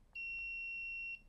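An active buzzer on an Arduino board sounds one steady, pure-toned beep lasting about a second, clear against a quiet background.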